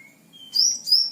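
A kacer (magpie-robin) songbird giving two bright, high chirps in quick succession, close and clear against a quiet background.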